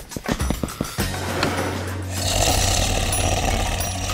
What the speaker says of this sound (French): C'est un ronflement humain.